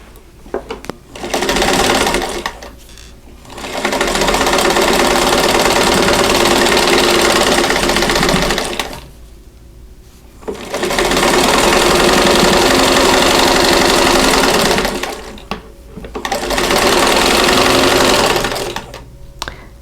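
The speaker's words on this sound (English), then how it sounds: "And then we'll sew that seam." A sewing machine stitches a quilt block seam for a diamond four-patch quilt, running loud and steady in three long bursts with brief pauses between them.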